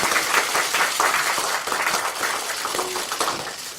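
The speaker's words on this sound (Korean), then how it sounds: "힘찬 박수 부탁드리겠습니다." Hearty applause fills the hall at a Liberty Korea Party welcoming ceremony for a new recruit, a foreign-policy and security expert, dense and steady throughout before easing slightly toward the end.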